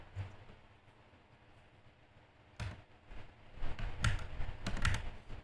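Keystrokes on a computer keyboard while entering code in MATLAB/Simulink Stateflow: a few soft clicks scattered over a low background rumble, growing into short, louder clusters of taps toward the end.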